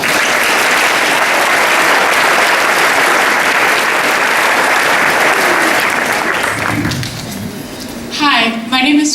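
Loud, sustained audience applause fills a school moving-on ceremony, a dense steady roar of many hands that fades near the end as a voice begins speaking.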